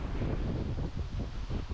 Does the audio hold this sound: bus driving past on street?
no